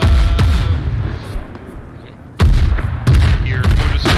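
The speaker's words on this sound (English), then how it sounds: "Mortars, mortars, mortars. There's still mortars." Mortar fire booms and cracks around a USMC grenadier in a combat setting in Grenada, several loud heavy blasts and rumbling impacts arriving in irregular succession, close and forceful.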